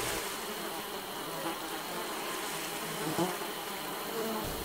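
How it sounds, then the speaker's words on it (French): Flies buzzing around someone alone on a beach, a steady insect drone close by that runs continuously over a broad hiss of background noise. "Je vois des mouches tourner autour de moi."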